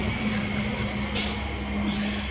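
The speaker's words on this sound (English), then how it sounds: "Is that the garbage truck?" A garbage truck passes outside a home on collection day, heard as a steady low engine drone with a sustained tone and a brief burst of air-brake hiss midway, muffled and moderately distant.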